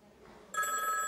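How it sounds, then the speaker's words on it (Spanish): A telephone rings in an animated Simpsons episode, a sudden bright, steady electronic ring that starts abruptly and continues loudly to the end. "¡Teléfono!"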